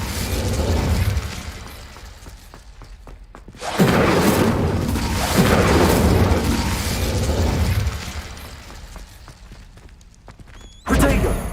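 Incendio fire spell bursts in Hogwarts Legacy, heard as loud whooshing blasts of flame with booming, crackling impacts, a sharp burst near the start, a long roaring stretch midway and a fresh burst at the end.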